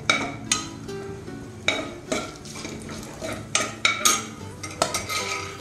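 Whole garam masala spices and cashews fry in a pot for a vegetable biryani, with a light sizzle under it. Sharp, close clinks and scrapes of a metal spoon against the pot come at irregular intervals, and no voices are heard.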